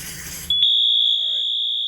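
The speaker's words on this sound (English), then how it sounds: "So this is just general alarm right now. We have an alarm. A slow pulse." A Fenwal 2320 fire alarm suppression panel sounds its slow-pulse general alarm: a loud, steady high-pitched electronic tone starts abruptly after a burst of noise and holds continuously, with a faint brief voice underneath.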